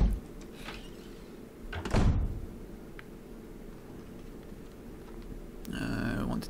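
A door-opening animation plays in Resident Evil Remastered: a single heavy wooden thud with a brief swish, then a quiet ambient hum, with another rattling, scraping noise near the end.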